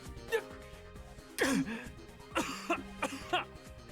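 Several harsh coughs come in short bursts, a couple close together, fairly quiet with brief breathy gaps between them.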